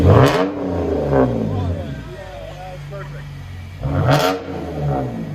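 A 2011 BMW 328i with a 3.0L inline-six and straight-pipe exhaust revs up and settles back. The engine drone rises and falls close by, while voices talk over it.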